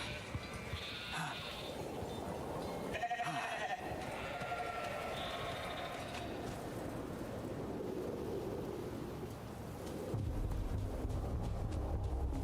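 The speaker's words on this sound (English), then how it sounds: "Little sheeps." Sheep bleat repeatedly in a video game, several wavering calls at moderate distance over a steady windy, surf-like background that grows louder near the end.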